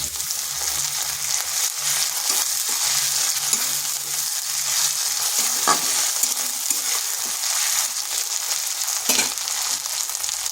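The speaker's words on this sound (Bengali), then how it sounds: "দিয়ে দিচ্ছি এক ইঞ্চি আদার পেস্ট" Ginger paste fries in a pan with a dense, continuous sizzle and spatter, close up, with a few stirring knocks and no talking.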